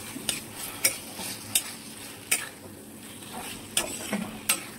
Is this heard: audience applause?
no